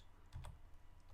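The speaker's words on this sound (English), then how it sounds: "So let's just type that in" Faint keystrokes on a computer keyboard while entering a formula in Excel: a few soft, quick taps close by in a quiet room.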